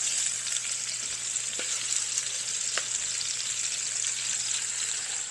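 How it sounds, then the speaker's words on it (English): Cabbage, sweet peppers, green onions and carrots stir-fry in a hot pan, giving a steady close hiss of sizzling with a couple of faint utensil taps and no talking. "we're going to put in our mixture of cabbage, sweet peppers, green onions, and carrots"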